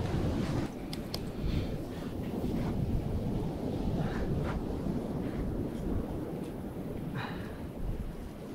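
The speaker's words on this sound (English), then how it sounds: "Schön, bei ihm ist es ordentlich Wind," Strong outdoor wind roars steadily and loudly at a campfire in the wilderness, buffeting the microphone with a dense, continuous rumble that never lets up.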